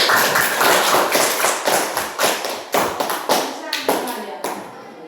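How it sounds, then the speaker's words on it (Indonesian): A classroom of students claps for a group of classmates after their presentation, a brisk spatter of hand claps and taps that peaks and fades in uneven bursts, with faint children's voices mixed in. "kita tepuk tangan untuk kelompok."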